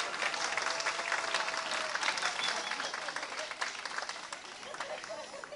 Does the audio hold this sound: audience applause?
yes